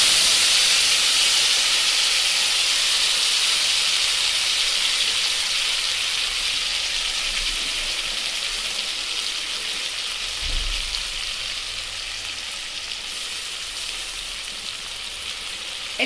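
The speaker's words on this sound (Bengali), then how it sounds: "এটাকে একটু ভালো করে কষিয়ে নেব," A paste of ginger, onion, garlic and green chili sizzles in a pan with fried potatoes, a steady bright frying hiss that fades slightly over time, with a brief low thump midway.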